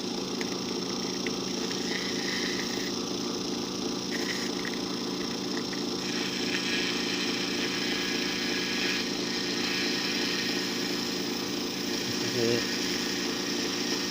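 A DC motor with a faulty, noisy front bearing runs steadily and close, a constant mechanical whine and rattle with no pauses.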